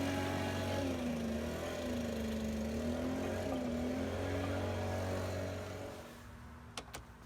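An impact gun set to loosen whirs steadily while working on Ford Transit brakes, with a sustained motor drone that wavers in pitch for about six seconds, then stops, followed by a couple of sharp clicks.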